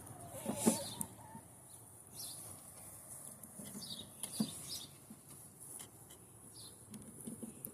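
Backyard chickens cluck softly and sporadically close by, with a few sharper calls and faint tapping peck-like knocks, all quiet and intermittent.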